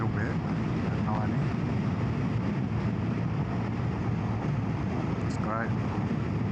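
Rushing wind on a BMW R1250RT motorcycle fitted with a Wunderlich Marathon windscreen, a steady broad roar of air and engine under the rider's muffled helmet speech.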